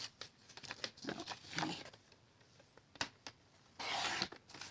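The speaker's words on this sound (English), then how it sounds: "So let me just cut off a piece here." Designer Series paper being cut for a Halloween card craft, a few quiet, irregular snips and crinkling rustles with short pauses between them, close and soft, with no voices.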